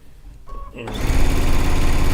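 Sewing machine stitching fabric while a quilt top is pieced, with a few quiet clicks and then the motor starting and whirring steadily, loud and close, with a rapid even needle rhythm.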